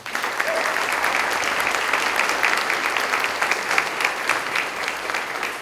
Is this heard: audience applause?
yes